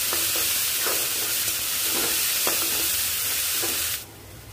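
Fennel, sesame and green chili paste roasts in a pan for samosa filling, a bright continuous sizzle with several soft stirring strokes, cutting off abruptly near the end.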